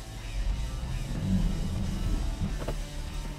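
A Renault Arkana engine revving as the car struggles for grip on a slippery surface, a steady strained drone close by, held without talking.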